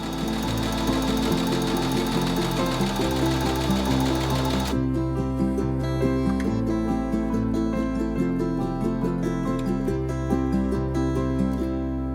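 Domestic sewing machine stitching the side seams of a summer dress with a 5/8 inch seam allowance, a fast rhythmic mechanical chatter in bursts that speed up and slow down, close and loud with no talking.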